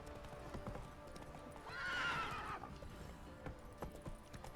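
A horse in The Witcher 3 trots with steady clip-clop hooves and lets out one loud neigh in the middle, set against faint game ambience.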